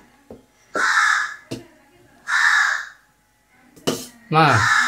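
A crow caws outside a home in the morning, giving three loud, harsh calls spaced apart, with other faint sounds in between.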